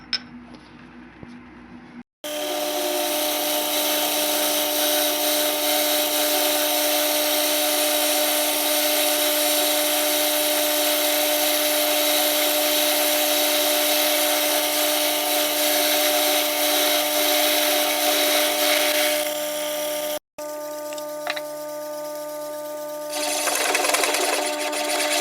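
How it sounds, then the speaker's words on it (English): A lathe or similar machine bores a hole for a worm gear, running as a steady, loud mechanical whine with fixed tones for most of the clip, then stopping briefly before resuming more quietly with a final burst. "And then finally a bore up on this end for a nice sliding fit with the worm gear here."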